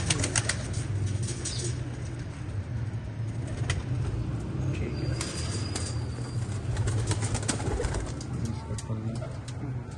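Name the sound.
old golden pigeons cooing and flapping wings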